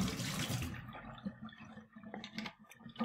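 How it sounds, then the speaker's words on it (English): Water pours out of a plastic Coke bottle in a short splashing gush that quickly tapers into faint dribbles and drips, close by and alone. "I empty all the water out,"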